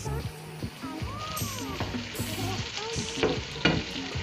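Garlic and tomatoes fry in a pan in a home kitchen in Karachi, Pakistan, with a steady close sizzle and occasional stirring scrapes, while a voice talks over the cooking.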